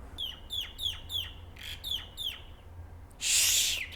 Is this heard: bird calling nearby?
yes